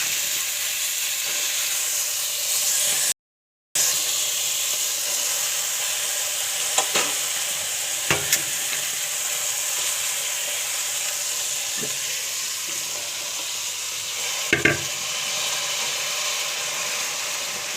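Cumin, garlic and onion fry in hot oil with eggplant, potato and cabbage, a continuous loud sizzle broken by a brief dropout and scattered faint clinks of stirring.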